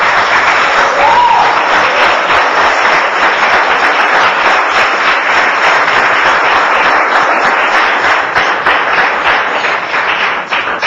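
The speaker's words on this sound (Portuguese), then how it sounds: "Aplaude ao Senhor quem está entendendo." A church congregation applauds loudly and continuously during a sermon, dense clapping holding steady for about eleven seconds.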